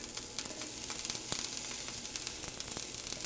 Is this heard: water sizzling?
yes